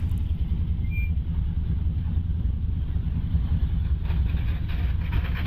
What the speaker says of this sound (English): A rather noisy PR7 with its big V8.